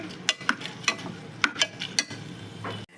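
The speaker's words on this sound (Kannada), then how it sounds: "ಒಂದು 3 ನಿಮಿಷ ಅಕ್ಕಿನ ಹುರ್ಕೊಂಡಿದ್ದೀನಿ ನಾನು." Rice for a dill-leaf pulao is stirred and toasted in a pan, a quiet, steady sizzle broken by a series of sharp scraping taps of the spoon against the metal, with no talk.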